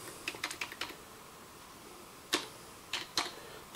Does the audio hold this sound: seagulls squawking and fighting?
no